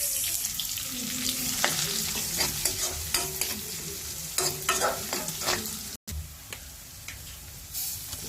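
Garlic and onion sauté in a pan for a chicken lumpia filling, giving a steady close sizzle broken up by repeated scraping and stirring strokes, with one very brief dropout midway.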